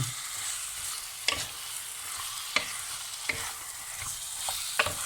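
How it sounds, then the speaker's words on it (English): Lamb coated in curry spices roasts in a pan with a continuous close sizzle, broken every second or so by sharp scraping stirs of a utensil against the pan. "Give it a nice stir, and then you want the meat to roast in the pan for about 5 minutes"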